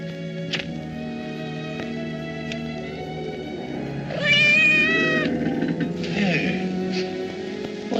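A cat meows several times in a 1944 classic horror film scene, drawn-out plaintive cries rising over a low background hum, fairly close, with no one speaking.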